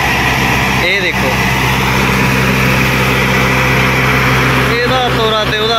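A tractor engine converted to a three-speed gearbox runs steadily at close range, a loud throbbing idle with a constant low hum, while someone talks over it at the start and near the end.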